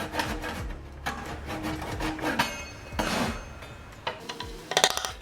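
Hand tools scrape and rub leftover gunk out of a routed rabbet in wood for a mid-century modern credenza, a series of close, uneven scratchy strokes with small knocks and no talking.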